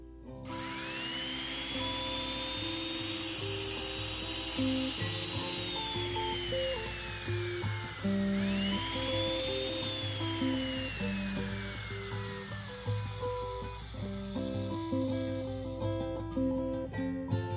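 A corded Black & Decker 1/2-inch standard electric drill whirs steadily, its motor pitch rising and falling twice, with a low mechanical drone underneath throughout.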